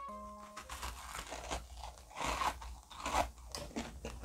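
Faint, close crunching as someone bites into a cookie, baked from frozen in an air fryer, topped with vanilla ice cream, with a few irregular chewy crunches over quiet room tone.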